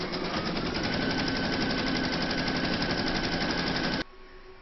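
An embroidery machine stitching a batting and fabric placement outline, a fast, even, rattling buzz of needle strokes that runs steadily and loudly, then stops abruptly near the end.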